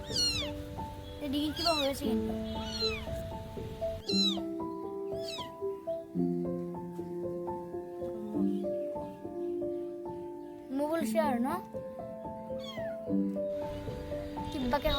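Several newborn kittens meow repeatedly in high, thin, overlapping cries, close by and persistent in a basket, with bursts of louder mewing among steady background tones.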